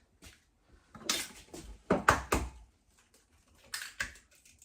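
Two eggs being cracked in a kitchen: a few sharp close taps and cracks in small clusters, with brief shell and bowl clicks between quiet pauses.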